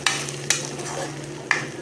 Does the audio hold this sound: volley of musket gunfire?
no